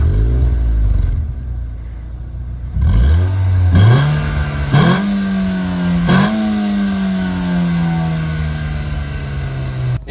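A Renault Twingo RS engine revs hard through several gear changes, loud and close, with rising pitch that drops at each shift before climbing again as the small hot hatch accelerates, and no voices.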